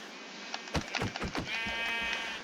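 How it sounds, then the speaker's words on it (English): Minecraft sheep bleats in a beginner's survival world, several short wavering baas close by, one after another, then a long sustained bleat with no talking. "There's another sheep over here."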